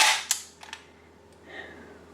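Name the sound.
airsoft UZI MP2A1 bolt being dropped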